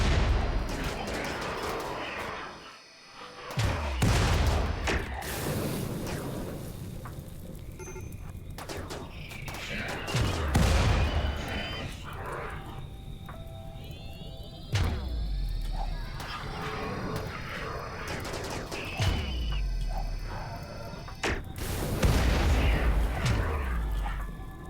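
Gunfire in the video game Rimworld crackles in scattered bursts and sharp booms across a busy battle, with repeated shots and impacts at varying distances and no voices over it.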